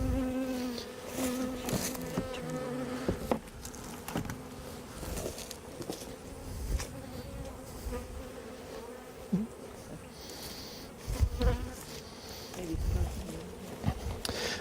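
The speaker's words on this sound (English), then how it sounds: "Hopefully get some of these bees to go deeper into the hive" Honey bees buzz continuously around an opened hive during honey harvesting, a dense, fairly quiet hum with occasional closer passes and handling knocks.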